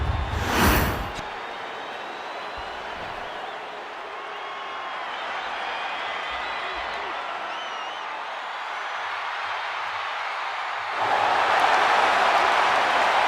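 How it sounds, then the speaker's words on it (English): Arena crowd in the WWE 2K25 video game at a SummerSlam tag-team match, a steady broad roar of cheering that swells louder near the end, with a brief sharp burst at the start. "The crowd on their feet."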